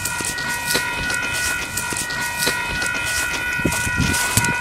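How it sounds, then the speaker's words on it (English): A train passes nearby at a New Zealand railway crossing, with a steady rolling rumble broken by repeated clickety-clack wheel knocks and bright metallic ringing tones throughout, and no one speaking. "Here's the train coming here."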